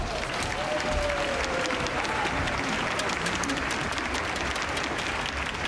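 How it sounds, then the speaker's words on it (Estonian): A crowd at an outdoor city-day opera concert applauds as three baritones come onstage, steady dense clapping holding at an even level throughout. "Aplaus!"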